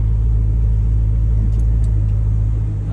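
A Maserati GranSport idles through a Larini X-pipe exhaust with the sport mode off, producing a deep, steady, loud rumble close by with no voices over it.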